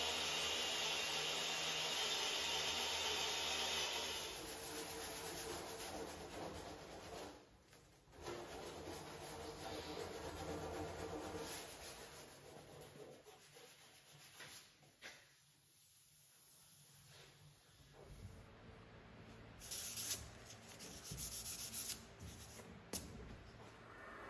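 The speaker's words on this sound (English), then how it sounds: "to kind of lift the edges I use silver wire brush disc" A silver wire brush disc works across an English oak dining table top, lifting the softwood and raising the hardwood grain. It gives a steady, close abrasive whirring scrape that dips and returns in passes, with gaps of quieter work between.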